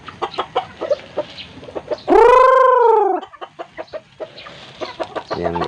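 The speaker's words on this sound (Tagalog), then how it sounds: "inahin at dumalaga." Free-ranging hens and pullets clucking close by at feeding time, a string of short clucks broken by one loud drawn-out squawk or crow in the middle, with no talk.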